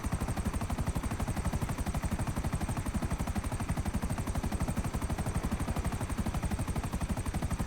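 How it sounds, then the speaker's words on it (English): A video-game helicopter flying toward a city throbs with a rapid, steady rotor chop that stays loud and close throughout, with a slightly odd, buzzing tone. "I definitely think this helicopter's making a slightly funny noise."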